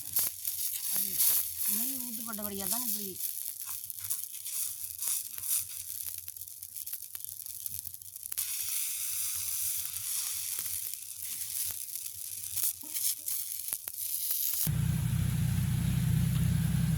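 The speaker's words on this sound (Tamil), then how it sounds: "சரி அடுத்த தோசையை சுடுவோம் அது அடுத்தது நெய் தோசை தான்" Ghee dosa batter sizzles and crackles on a hot pan in a village kitchen, a steady close frying hiss with scraping touches, a brief voice early on and a louder, denser burst of sizzling near the end.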